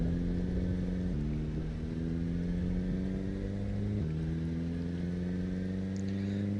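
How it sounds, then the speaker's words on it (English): A car engine with a loud muffler drones steadily while driving in a zombie survival video game, its pitch stepping between gears with a constant throaty rumble, close and alone without talk. "I would love to work on this muffler, because it seems like it's very loud"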